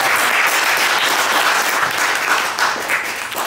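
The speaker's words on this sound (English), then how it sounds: "Can you please clap for real?" An audience at a sociology book launch applauds, a full, sustained burst of many hands clapping that continues evenly throughout, with no speech over it.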